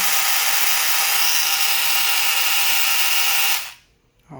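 Repaired generic electric mini razor running with a bright, high-pitched buzzing whine that holds steady for several seconds, then stops abruptly, leaving near silence before a brief faint sound.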